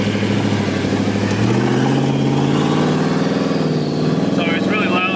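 A twin-turbo Ford Mustang engine rumbles and revs close by, its loud throaty drone rising and falling steadily, with voices talking over it.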